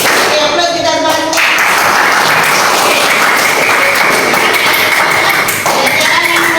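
A school class claps through a rhythmic call-and-response clap game in a lesson, sharp hand claps in quick patterned bursts, loud and near, mixed with the teacher's voice calling out between them.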